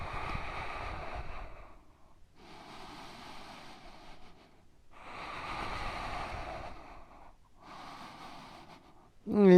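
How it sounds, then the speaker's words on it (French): Forceful breaths through the nose and mouth in the dolphin yoga pose (ardha sirsasana), four long rushing exhalations with short pauses between them, close and steady, then a sudden louder gust at the end. "Et là, faire des souffles."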